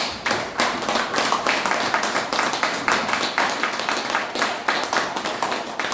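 A church congregation claps in steady rhythm while acclaiming the Lord, many hands striking together in quick, even pulses that fill the space continuously and loudly from start to finish, with little voice audible.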